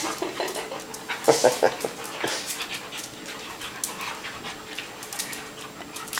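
Dogs play together at home, panting rapidly up close with a few whimpers and scuffling sounds, while people talk softly in the background.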